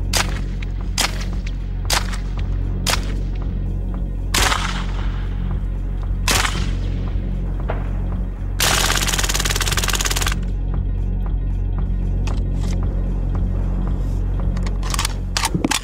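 Special-purpose pistol firing automatic bursts, sharp repeated cracks spaced out at first, then a sustained dense burst of rapid shots, loud and close with no talking.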